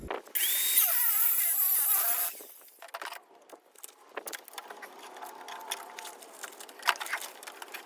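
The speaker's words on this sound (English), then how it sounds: "I don't mind burning up cutoff disc for that kind of copper." A cutoff disc grinder whines loudly and continuously while cutting copper out of a vintage welder, then stops abruptly, followed by scattered metallic clatter and handling noises.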